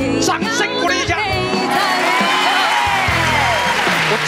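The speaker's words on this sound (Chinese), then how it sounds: "掌声鼓励一下" A television variety show audience claps and cheers, a warm burst of applause with some whoops. It starts under lingering singing and talk, then swells into a broad, sustained wash of clapping.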